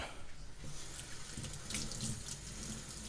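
Tap water pours steadily into a kitchen sink, a continuous close splashing hiss for the full stretch with no voices.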